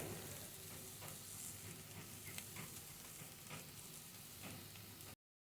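Onion greens bhaji stir-frying with salt in a pan, a steady close sizzle with scraping stir strokes throughout, no voices.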